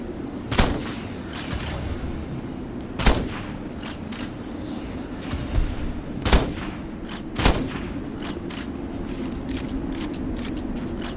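Sharp, loud gunshots from the video game Metal Garden fire singly at irregular intervals, about five distinct cracks with faint thumps between them over a constant rumbling background, no voices.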